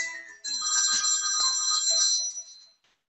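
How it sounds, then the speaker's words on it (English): A telephone bell rings in one continuous, bright, trilling burst lasting a couple of seconds, then stops, with no voices over it. "And then one day the phone rang."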